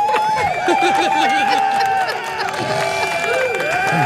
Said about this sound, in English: That's the most facetious crowd noise